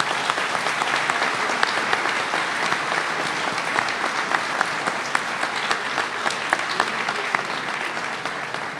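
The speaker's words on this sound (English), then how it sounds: "Let's give that admissions committee a big round of applause." Steady applause from a ceremony audience at a medical school white coat event, dense clapping sustained evenly throughout, no voices standing out.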